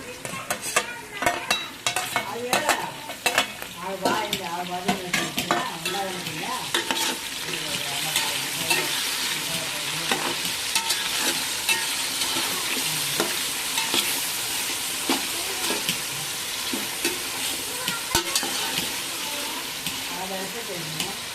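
Chopped tomatoes for vegetable rice fry in a pan with a bright, continuous sizzle. Quick, repeated stirring scrapes come in the first several seconds, then the frying settles into an even hiss with an occasional clink.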